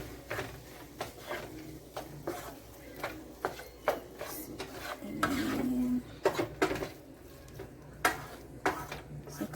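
Drained, rinsed ingredients for Jamaican-style stuffed fish being mixed in a bowl, with regular clinks and scrapes of a utensil against the dish at a steady, unhurried pace, close by, plus a brief rough rustle midway.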